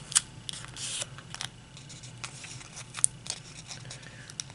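Origami paper being creased and folded into a heart-shaped snake, giving soft, close crinkles and light papery taps scattered through the moment, with no one talking.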